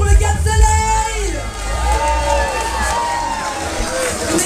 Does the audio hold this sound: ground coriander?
no